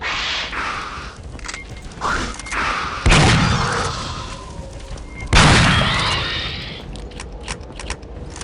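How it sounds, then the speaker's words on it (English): Powerful shotgun blasts in Aliens vs Predator 2, two heavy booming shots a couple of seconds apart with sharp attacks and long rumbling tails over game ambience and scattered clicks. "the main one I want to talk about is this shotgun. This thing feels and sounds so powerful"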